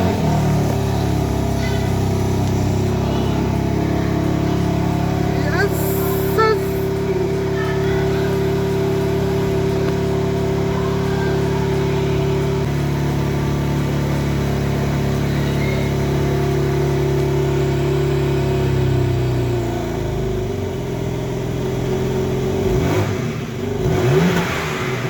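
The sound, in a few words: BMW M3 G80 engine revving with exhaust valves open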